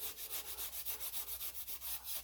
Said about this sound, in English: I like to use a scuff pad just to make sure that everything's real good and clean and smooth.